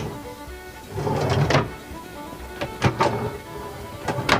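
A drawer in a Rustic Trail teardrop camper slides and thuds shut, with a few short knocking bursts following in a quiet interior.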